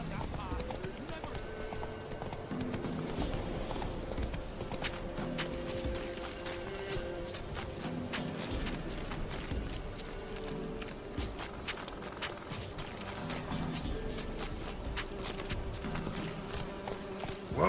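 Roach the horse's hooves clip-clop steadily in The Witcher 3, a continuous rhythmic trot running under a dense bed of game music and ambient buzzing, fairly loud throughout.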